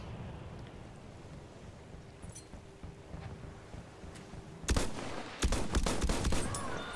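Battlefield 1 video game gunfire aimed at a soldier parachuting down: a low rumbling backdrop that breaks into two loud bursts of rapid shots near the end.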